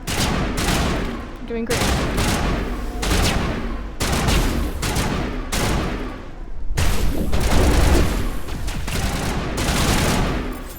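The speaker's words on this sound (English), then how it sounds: "you're shooting the wall there, buddy" Sustained bursts of rapid gunfire striking a wall in the sci-fi shooter Mass Effect, loud and close, broken by short pauses, while a person talks over the shooting.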